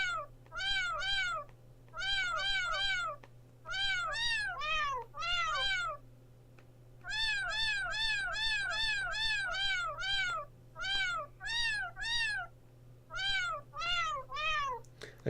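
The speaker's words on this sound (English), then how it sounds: "the delay between pressing the button and the cat making the sound is so great" Repeated cat meows triggered by button presses in a basic iOS app, arriving in quick bursts of several chirpy meows with short pauses between groups, over a steady low hum.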